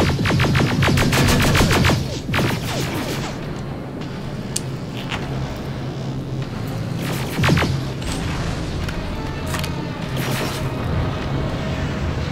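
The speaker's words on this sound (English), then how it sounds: "Explosion knocked one over." Explosions and gunfire in the shooter game Terminator: Resistance: heavy booming blasts with dense crackling bursts, loud at the start and again near the middle, and a rumbling mechanical din between them, with no speech.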